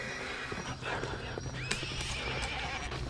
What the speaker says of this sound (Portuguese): Eu tô escutando barulho de pisada de cavalo